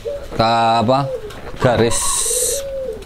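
A young zebra dove's rhythmic, trilling coos sound close and loud in short phrases, with a brief hiss-like noise between them.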